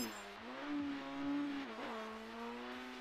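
Car drifting in the mobile game Drift Max Pro: a steady synthetic engine whine that rises and dips as the car slides, with faint tire noise beneath and no other sounds.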